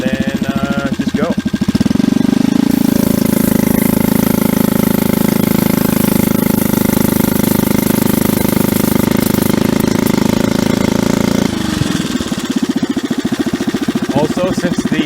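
A small 79cc motorbike engine runs loudly throughout, revving up into a steady high drone as the throttle opens and the clutch engages, then dropping back to an uneven idle.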